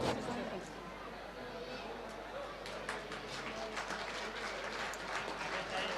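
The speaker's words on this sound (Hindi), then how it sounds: "तालियां बजाइए दोस्तों" Steady clapping from a gathered audience at a Saraswati Puja 2020 stage event in Bihar, welcoming a railway workers' union president. The dense, even patter is fairly soft and distant and carries on without a break.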